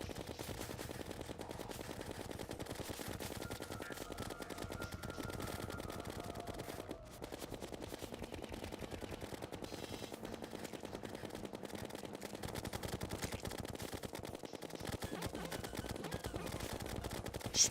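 A rapid-firing gun in Terraria with the Calamity mod sounds as a steady, unbroken stream of quick, clicky shots that continues through the whole stretch at an even level.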